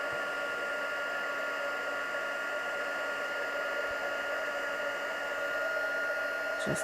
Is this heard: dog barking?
no